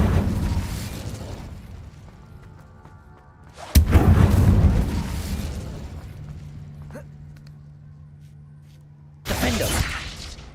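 Incendio fire spell cast in Hogwarts Legacy, a sharp crack followed by a roaring, crackling burst of flame that fades, then another fiery whoosh near the end.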